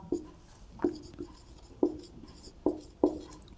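A pen writes on paper during a class 12 maths lesson, producing about six short, distinct scratchy strokes at irregular intervals, close and fairly quiet.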